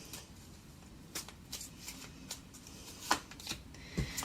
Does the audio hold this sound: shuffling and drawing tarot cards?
yes